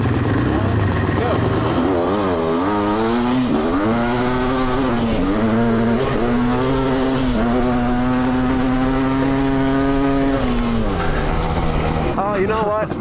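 A high-powered electric dirt bike accelerates at full speed, its loud rising and falling motor whine sweeping up and down continuously, close and dominant throughout.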